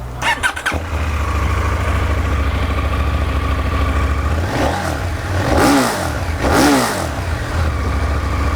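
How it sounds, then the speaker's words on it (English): A KTM 990 Duke motorcycle fitted with a baffled Remus exhaust starts up, settles into a steady idle, then gets two or three sharp throttle blips that rise and fall, loud and close, with no talking. "The Remus sounds mega."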